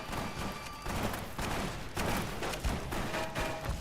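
Gunfire in a video game rattles as a string of quick muffled shots and thumps over a busy background, fairly faint and continuous, with no talking.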